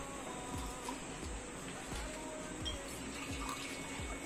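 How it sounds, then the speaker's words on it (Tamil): Water pours into a bowl of soaked rice for a Chettinad black rice sweet, a steady faint splashing trickle with no voices. "இந்த டம்ளர்ல வந்துட்டு 1:2 கணக்கா இப்போ வந்துட்டு தண்ணி ஊத்த போறோம்."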